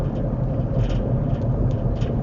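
Interior of a car driving around town in traffic, a steady low engine and road rumble that is loud and continuous, with faint higher tire noise on top.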